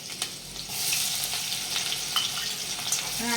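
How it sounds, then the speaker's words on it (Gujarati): Green chilies and dried onion with a pinch of asafoetida are stirred and sautéed in a pan for pasta, giving a dense, continuous frying hiss with occasional soft scrapes of the spoon. "રીતે હલાવશું, સાંતળશું"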